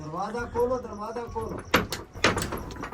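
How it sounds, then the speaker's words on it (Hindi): Heavy banging and thuds on a door as people try to force it open, several loud sharp impacts coming after a man's agitated speech, close and echoing. "दरवाजा तोड़ने की कोशिश कर रहे हैं और कह रहे हैं कि दरवाजा खोलो"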